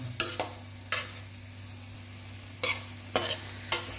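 Tomatoes sauté in a pan for mixed vegetable sambar, a soft continuous sizzle with a steady low hum underneath, punctuated by about five sharp spatula scrapes and taps.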